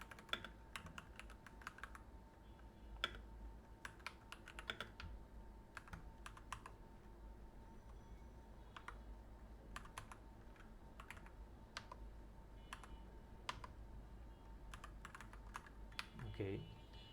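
Close, quiet typing on a computer keyboard, with irregular bursts of key clicks and short pauses spread over a faint steady hum. A voice speaks softly at times.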